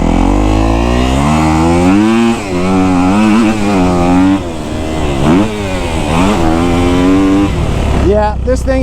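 Kawasaki KX250F four-stroke dirt bike ridden on a track, its engine loud and close, revving up and down through gears with rising and falling pitch, briefly dropping off near the end.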